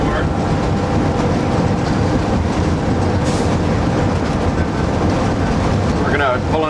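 A 1993 Amtrak California Zephyr rumbles into Davis station, heard from inside the cab as a loud, continuous rail roar with clattering wheels and a brief squeal near the end.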